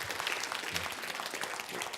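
An audience at a health seminar bursts into steady, dense applause, many hands clapping close and loud throughout the short burst with no talk over it.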